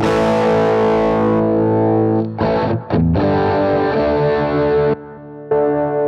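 Distorted electric guitar played through an HX Effects unit going direct, a loud, thick chorded riff with sustained crunchy chords, a couple of brief stops and choppy restarts, heard alone with no talking.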